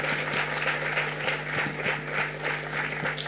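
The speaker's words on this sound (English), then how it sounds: "a huge round of applause to Dr." An audience applauds a scholar after a talk on the Raganga raga scheme of Muthuswami Dikshitar, a steady patter of many hands clapping at moderate distance with a faint hum beneath.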